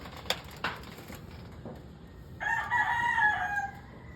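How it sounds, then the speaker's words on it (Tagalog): A rooster crows once at a moderate distance in a quiet rural yard, the call rising and holding for about a second after a couple of faint knocks. "May manok pa rito."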